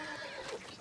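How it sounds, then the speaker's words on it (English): A horse in the video game Red Dead Redemption 2 whinnies in a short, bright burst over a steady background hum, close and moderately loud. "I'm gonna bring my horse over"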